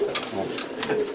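Racing pigeons coo in a loft, several soft throaty calls overlapping at close range with no talk.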